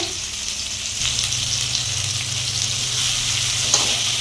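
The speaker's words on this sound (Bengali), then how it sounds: "আলুটাকেও একদম ভালো করে ভেজে নিবে" Potatoes fry in a pan on a clay stove, a loud, steady sizzle with stirring scrapes running throughout, close up and uninterrupted by talk.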